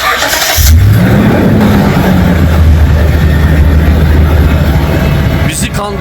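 A car engine in the Roblox video game starts and revs, then drones steadily as the car drives off, loud and up front, with a brief burst of other noise at the start and near the end.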